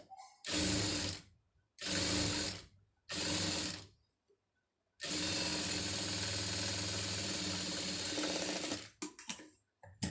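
A sewing machine stitches a blouse lining piece in three short bursts, then runs in one long, steady whirring stretch, loud and close, with brief pauses between runs.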